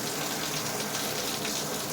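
LED temperature-sensing shower head with mist jets sprays water at higher flow, a dense steady hiss of falling water, close and continuous without pause.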